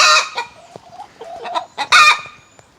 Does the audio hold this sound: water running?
no